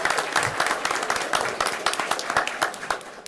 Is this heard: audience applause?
yes